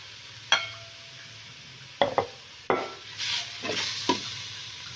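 Pork ribs tossed and stirred in hot chili paste in a pan, a few sharp metal scrapes and clatters over a soft sizzle, with no talk.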